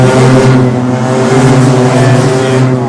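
A 125cc Micromax go-kart engine, an 8 horsepower unit, runs loud and close at steady high revs, a continuous buzzing drone with slight wavering in pitch and no voices.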